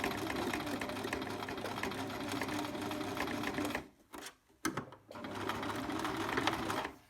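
A sewing machine stitches a backstitch through homemade makeup-remover wipes, running with a steady close mechanical whir, pausing briefly twice before starting up again for several more seconds.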